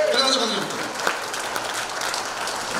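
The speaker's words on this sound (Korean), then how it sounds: "박수 한번 부탁드리겠습니다" An audience at a Rotary district training session claps, a broad steady patter that holds at an even level, with a voice heard briefly at the start.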